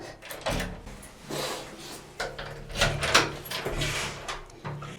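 A door creaks and bumps open with wooden knocks and a scraping rattle, a few irregular thuds over several seconds, fairly close.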